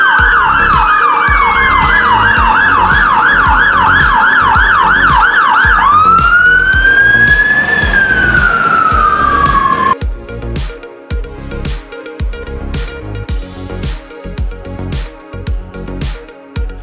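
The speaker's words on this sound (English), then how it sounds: "Fire engine." A loud fire engine siren wails in fast repeating sweeps, then a long rising-and-falling tone, over a rhythmic mechanical beat.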